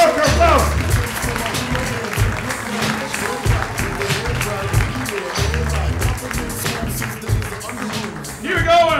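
Comedy club audience at the Ice House applauding and clapping for a comedian, a steady dense wash of hands with crowd cheering, while a host talks loudly over it through a microphone.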